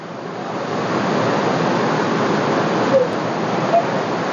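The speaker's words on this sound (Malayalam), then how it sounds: "ഇതാണ് വെള്ളച്ചാട്ടം" Siddharkund waterfall at Kollengode, a loud, continuous rushing roar of falling water close by, steady throughout with a couple of faint brief knocks.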